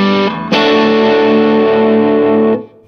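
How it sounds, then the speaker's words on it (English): An electric guitar played through an overdrive effect on a MIDI-switched pedalboard: a couple of loud, sustained, gritty chords ring out and hold, then cut off sharply at the end. No one speaks. "this is the overdrive"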